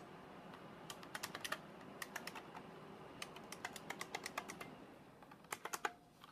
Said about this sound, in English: This keyboard is louder than your standard keyboard. A lot louder because of the buckling springs.